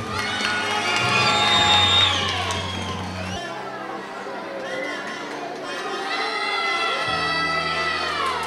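Audience at a school pageant in 2007, a sweets-themed queen contest, cheering and shouting loudly with children's voices prominent, a sustained crowd roar that swells, dips and rises again.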